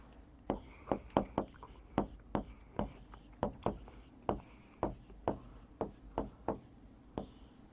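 Chalk or marker tapping and scratching on a board in short, quiet, evenly spaced strokes, roughly two per second, with no voices.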